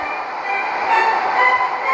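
A driverless, unmanned passenger train in a video game rolls steadily along the track, giving a continuous, moderately loud rumble with a faint high whine and no talking over it.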